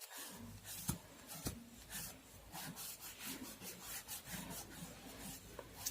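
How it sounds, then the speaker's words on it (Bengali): Colour being rubbed by hand onto a surface with steady, close, scraping strokes in a repeated rhythm, heard alone without talk. "এবার তুমি একটু হাতে করে এরকম ঘষেও দিতে পারো,"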